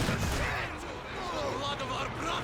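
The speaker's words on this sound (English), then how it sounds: "Big burst from the quad" A quad machine gun in the video game Company of Heroes 2 lets loose a dense, rumbling burst of fire amid battlefield noise, with a voice talking over it.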